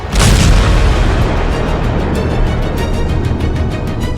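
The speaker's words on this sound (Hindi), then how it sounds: "ताबड़तोड़ बम धमाका, आसमान तक आग, काला खौफनाक धुआं।" A loud, deep bomb explosion from an Israeli strike on Iran booms and then rumbles on continuously, with a dense roar and scattered crackles.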